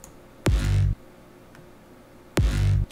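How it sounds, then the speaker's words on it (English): Two heavy hardstyle kick drum hits, each with a sharp click and a booming distorted low tail, about two seconds apart, loud and isolated against near silence. "and then this hard style kick, which is like that big bassy hit"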